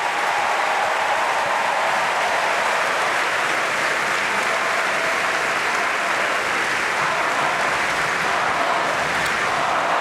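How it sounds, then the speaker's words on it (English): Arena crowd at Duke's Cameron Indoor Stadium gives a long, dense, steady round of applause for head coach Mike Krzyzewski after the Duke–North Carolina game, loud and unbroken throughout. "a Blue Devil round of applause for your head coach,"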